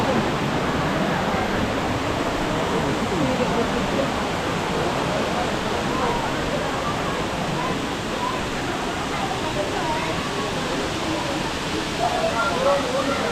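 Level 3 of Erawan Falls, a shaded waterfall in Southeast Asia, roaring as a loud, continuous broadband rush of falling water, close and steady throughout.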